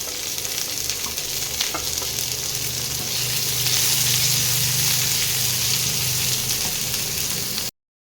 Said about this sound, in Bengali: এবার আমি পেঁয়াজ কুচিগুলো দিয়ে দিচ্ছি। পেঁয়াজগুলোকে একটু লাল লাল করে ভেজে নিতে হবে